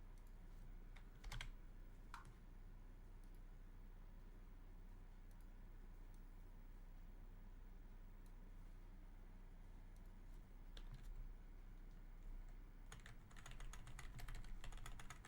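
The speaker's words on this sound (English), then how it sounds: "I use the arrow keys to make it easier for me." Computer keyboard keys pressed while working in Krita animation software: sparse, faint clicks in small clusters over a steady low hum, growing into a quicker run of taps near the end.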